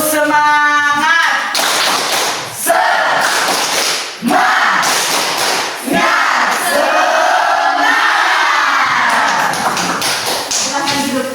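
A group performs a rhythmic spirit clap in a classroom activity, bursts of synchronized clapping and shouting in short phrases, loud and close, with voices chanting between the claps.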